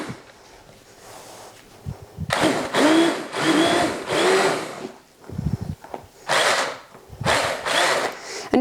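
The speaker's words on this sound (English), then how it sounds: "And start just by giving the blender a light tap to make sure" An immersion blender purees carrot soup in short, loud whirring bursts separated by brief pauses, its motor pitch rising and falling as it runs close by.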